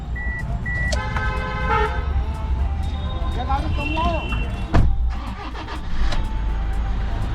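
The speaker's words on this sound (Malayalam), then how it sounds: "കൂളായിട്ട് വണ്ടി സ്റ്റാർട്ടായിട്ടുണ്ട്." A used car at a Karol Bagh used-car market starts and settles into a steady idle, the engine a continuous low rumble beneath street noise, horns and people talking nearby.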